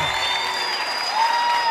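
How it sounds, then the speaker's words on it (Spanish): Brief crowd applause at a live cumbia concert, heard as a continuous wash of clapping with faint cheering and sustained tones ringing above it. "Quiero un fuerte aplauso para Gerardo Farías"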